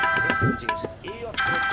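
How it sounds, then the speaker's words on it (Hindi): A telephone ringtone rings in a Hindi TV drama scene, giving a bright, tonal electronic melody that stops briefly and then resumes within a couple of seconds. "अनीता का फोन।"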